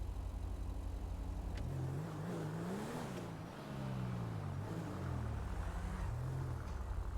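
A car engine in the GTA video game revs and shifts pitch repeatedly as the car is pulled out and driven, a continuous mid-pitched drone over steady road noise, fairly faint and with no talking.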